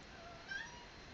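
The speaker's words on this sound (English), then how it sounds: "whatever she's meowing about." A cat gives a single short, faint meow partway through, alone over a quiet room background.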